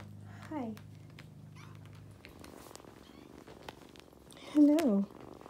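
Foster kittens purr up close with a low, steady rumble for the first couple of seconds. Short meows break in near the start and again louder toward the end.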